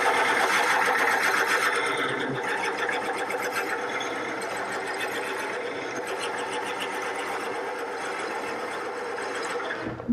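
A steady, high-pitched whirring grind runs unbroken from start to finish as a drill bit bores into spinning wood on a lathe for hollow turning.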